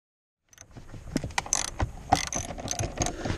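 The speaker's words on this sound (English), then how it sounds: "I'm also using a quarter inch drive" Quarter-inch drive ratchet turning shifter bolts in a Dodge Challenger Scat Pack interior, a run of quick clicking pawl bursts starting after a brief silence, close and moderately loud with no talk.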